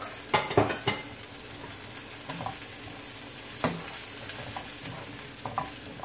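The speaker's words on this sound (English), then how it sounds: "at this point I'm just gonna add my coconut cream. So my potato could cook." Coconut cream and potato cook in a curry pot, a soft steady sizzle broken by a few scraping stirs of a spoon against the pot, close and quiet with no talking.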